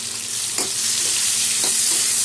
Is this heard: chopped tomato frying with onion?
yes